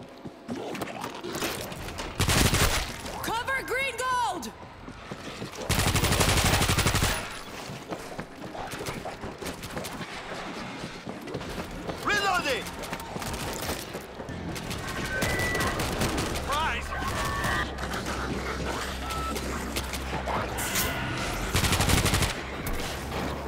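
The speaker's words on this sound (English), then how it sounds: "Place the machine gun." Machine gun fire from a placed turret in the zombie shooter World War Z, with bursts of rapid gunfire and booms that swell and fade over continuous game noise.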